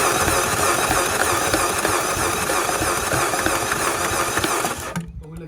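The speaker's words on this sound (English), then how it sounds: "So it's trying to start on one cylinder so far." A Fiat Abarth engine with very low compression cranks over on the starter, a continuous loud, dense mechanical whir that holds steady for several seconds and then cuts off abruptly, leaving a faint low hum.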